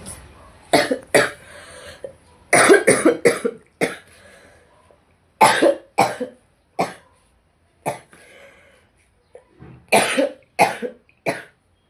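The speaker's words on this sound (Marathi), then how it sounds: "भयानक खोकला झाला" A person coughs heavily in repeated harsh bursts, several clustered fits separated by short pauses, close and loud with no other sound between them.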